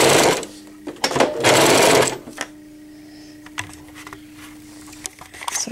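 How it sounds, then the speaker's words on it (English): A sewing machine stitches elastic onto a cloth pocket diaper, running forward and reverse in two loud bursts of rapid motor whirring and needle chatter, then quieter stops and short stitching taps with a steady hum between. "that's where I'm going to sew my elastic, right on that mark, right to the inside of the pull"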